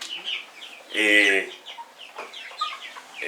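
About 125 chickens in a group-run farm coop in Cameroon cluck close by, with one louder, drawn-out squawk in the middle. Someone speaks briefly over the birds.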